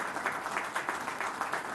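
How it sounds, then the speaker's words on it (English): Modest audience applause at an airport launch event for a cold chain centre, soft, steady clapping from a crowd heard at a distance, with no voices over it. "I guess this applause needs to be more louder."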